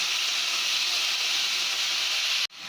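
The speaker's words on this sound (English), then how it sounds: "I'm going to add little salt while sauteing the" Onion with salt sauteing in a pan for a fish gravy gives a loud, steady close sizzle that holds evenly, then cuts off abruptly near the end, with no talking.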